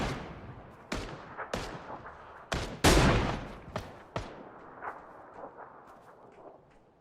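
Gunfire in the battle game PUBG: a string of sharp, loud shots spaced irregularly, some close and punchy, others fainter and more distant, each with a decaying echo and no talking.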